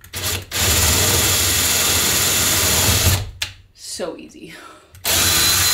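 A power drill bores through the pre-drilled holes of an IKEA storage cabinet, whirring loudly in two long bursts. A short spoken remark comes in a gap between them.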